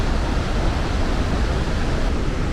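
Iguazu Falls in Brazil, a vast waterfall roaring with a steady, dense broadband rush that never lets up, heard close and loud with no voices over it.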